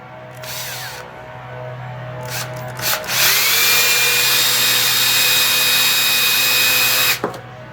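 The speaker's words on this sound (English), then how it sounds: "First I need to clearance the hole a little better." A power drill enlarging a screw hole in a wooden leg for a walking grasshopper model: short bursts of motor whine, then a loud sustained grinding run of several seconds that stops abruptly, close and alone.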